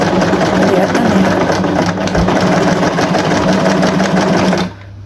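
A Janome RE1312P sewing machine stitches in reverse with a loud, steady motor whir and rapid needle chatter, running close for several seconds before it stops abruptly.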